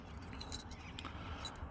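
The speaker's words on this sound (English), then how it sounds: "Jimmy keys, is what I call them, because they help me get in a lot of vehicles by jimmying the door open." Metal jimmy keys, car lockout tools used on a 2006 Chevrolet Silverado, jangle close by in a continuous rattling shuffle with a few sharper clinks, over faint background noise.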